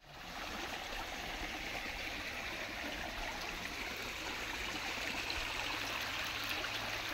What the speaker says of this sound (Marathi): पाटातनं चालू आहे पाणी.